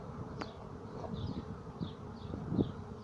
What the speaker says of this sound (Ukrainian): Це найбільше з усієї пасіки, з усіх вуликів, пчола.